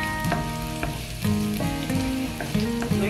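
Ginger frying in a pan as part of a tender juicy hotdog and mixed vegetables dish, a steady close sizzle with repeated clinks of a utensil against the pan.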